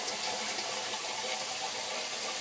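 Water pours steadily down through the filter drop-off of a large 150-gallon cichlid aquarium, a continuous broadband rushing that stays even and close with no pauses or talk.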